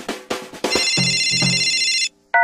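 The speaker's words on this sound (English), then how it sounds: "please take a moment to turn off all cell phones so they don't ring during the show" Cell phone ringtone in a cinema, a steady electronic ringing tone that sounds loud and close for about a second and a half, then stops abruptly before a short final chirp.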